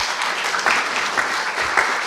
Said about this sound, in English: him a round of applause.